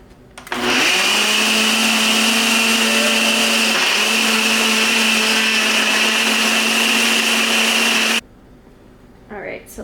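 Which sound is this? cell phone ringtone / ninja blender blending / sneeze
ninja blender blending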